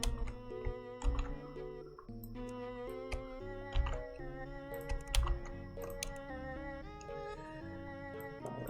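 Keys clatter on a computer keyboard as a name is typed in a detective horror game, a run of quick uneven taps layered over a tonal, melodic game soundtrack.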